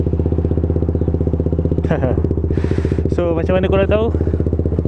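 A motorcycle with a 63.5 mm engine block idles steadily close by, its even low throb running under a voice.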